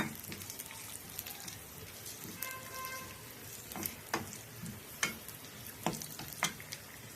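Cashews and raisins fry in ghee for semiya payasam, a quiet, steady sizzle punctuated by occasional soft taps and crackles from a spatula moving them around the pan.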